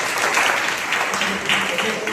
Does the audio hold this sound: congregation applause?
yes